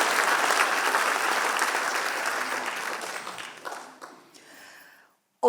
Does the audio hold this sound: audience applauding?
yes